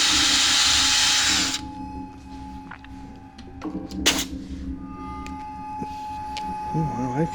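A power drill runs loud and steady for about a second and a half at the start, then stops, leaving quieter handling clicks and knocks with faint talk.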